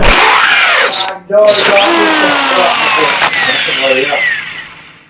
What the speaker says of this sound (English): we're going to let Chris start drilling